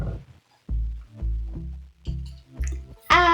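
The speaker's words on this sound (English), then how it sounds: "And now I'm gonna pour it in." Holographic slime pours from a bottle in a series of soft, low, gloopy plops and squelches, each a brief separate blob, ending with a short voice.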